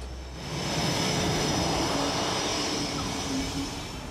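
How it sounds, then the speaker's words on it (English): A CF-18 Hornet A-model fighter jet roars in flight, a broad steady rumble that swells in after a quiet start and stays loud throughout. "we fly the CF-18 Hornet. Obviously, it's an A model. It's a multi-role fighter and ground attack aircraft."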